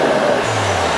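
A Mercedes GLC43 AMG 3-liter V6 runs close by in a brief, loud, broadband engine rush with a low steady drone underneath.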